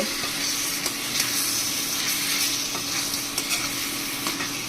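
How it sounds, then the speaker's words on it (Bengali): Chicken with ground coriander and cumin stirred in a pan, a steady close scraping and stirring over continuous sizzling frying with occasional clinks of the utensil, no voices. "এখন সবগুলো একসাথে ভালো করে নেড়ে নিব"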